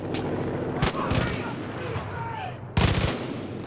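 Gunfire in the video game Far Cry 5, with sharp bursts of shots near the start, around one second, and a louder volley near the end over a steady rumbling game background.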